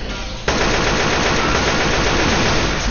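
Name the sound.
gunfire in the video game Left 4 Dead 2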